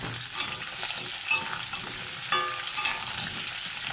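Potol, or pointed gourd, sizzles continuously in hot oil while being stirred, and a couple of sharper scraping clicks cut through the constant frying hiss.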